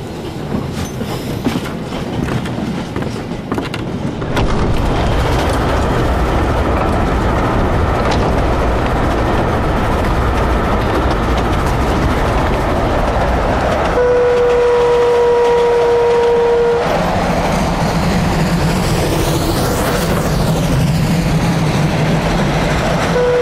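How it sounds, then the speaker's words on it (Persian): A train rolls along the rails in a Persian action drama film, a loud, continuous rumble with clattering wheels that swells and later carries squealing metallic tones, with no voices. "یه قطار داره ما رو تعقیب می‌کنه."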